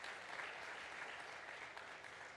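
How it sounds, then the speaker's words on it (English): A conference audience at an African Development Bank high-level plenary applauds a speaker, a steady, dense wash of clapping from a large crowd, heard at a distance and fairly quiet throughout. "A big round of applause again for President Adesina."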